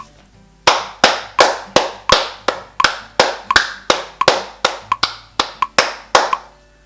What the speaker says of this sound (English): And now let's clap some eighth notes.